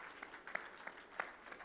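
An audience applauds a guest coming on stage at the Bloomberg Power Players Summit in Jeddah. The clapping is soft and distant, a steady patter with a few sharper claps standing out.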